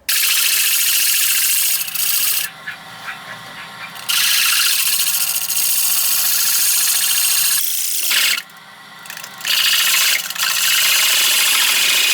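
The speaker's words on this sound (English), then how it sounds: "So we're going to do the final one and do a little bit of hand sanding." Continuous abrasive rasping of sandpaper against wood spinning on a lathe while turning a picture frame, loud and close, pausing twice briefly before resuming.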